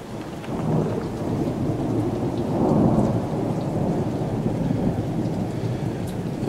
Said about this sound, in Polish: Moi drodzy, jak może słychać, pada. Pada od 2 godzin tak intensywniej.